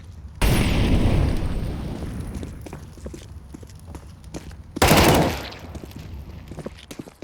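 Incendiary grenade and gunfire in a video game shooter: two loud, sharp bursts several seconds apart, each trailing off in a roaring decay, with scattered crackling shots in between.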